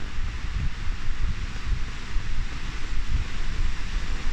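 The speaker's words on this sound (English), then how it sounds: "Holy wind." Strong outdoor wind roars in steady, buffeting gusts across the microphone, loud and continuous with no voices.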